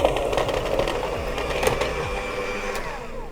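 Lotus Biscoff spread mixture being whisked in a bowl, likely with an electric mixer, giving a steady whirring motor drone with a busy, scraping texture that runs continuously at close range.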